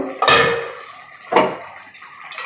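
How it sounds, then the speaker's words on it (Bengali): Metal lid lifted off a cooking pot of simmering bottle gourd greens and potato, producing two close, loud metallic clanks about a second apart with a short ringing decay and a faint tap after. "এবার ঢাকাটা খুলে দেখি কত দূর সেদ্ধ হলো"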